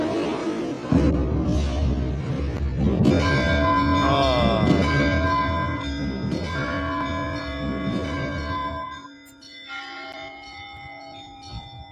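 Bells ring loudly with a rich, sustained metallic clang and shimmering overtones that slowly decay, with a faint crowd murmur underneath at first.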